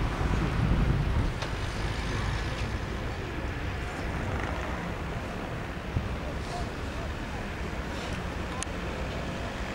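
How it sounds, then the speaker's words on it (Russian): Steady broadband rumble of a boat moving across Lake Ohrid in Macedonia, with wind buffeting the microphone and a constant wash of noise throughout. "А это наша лодка"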